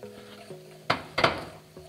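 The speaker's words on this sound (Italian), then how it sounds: "si comincia a girare un po' e si aggiunge il latte" A utensil stirs roux and milk in a pan for béchamel sauce, with two distinct metallic knocks and scrapes against the pan over a faint steady kitchen hum.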